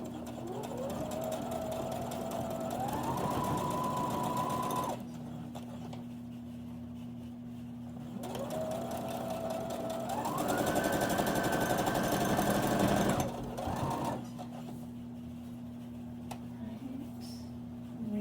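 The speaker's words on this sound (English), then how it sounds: "I will continue sewing all the way straight through" A sewing machine stitches quilt block seams in two long runs, its motor whirring steadily and rising in pitch as it speeds up, with a pause between runs while the fabric is readjusted and a low hum underneath.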